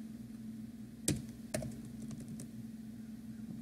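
Quiet computer keyboard typing, a few sharp key taps landing among softer clicks over a steady low room hum, with no one speaking.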